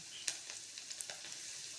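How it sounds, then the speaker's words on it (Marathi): Tadka tempering sizzles in hot oil while Maggi noodles are made, a faint, steady hiss broken by scattered sharp pops and crackles, with no talking. "हे ऐका ना, फोडणीचा आवाज किती छान येतोय"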